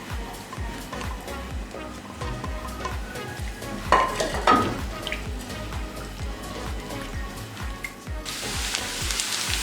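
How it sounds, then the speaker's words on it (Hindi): Chopped onion frying in hot oil in a frying pan, a steady soft sizzle with stirring clinks and scrapes of a utensil against the pan. "अब ये डालेंगे इसमें और 1 से 2 मिनट के लिए इसे फ्राई करेंगे"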